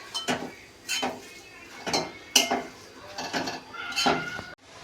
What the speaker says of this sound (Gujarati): અંદર બધા ગાજર છીનેલા અંદર નાખી દીધા છે હવે એને હલાવી લઈશું બરાબર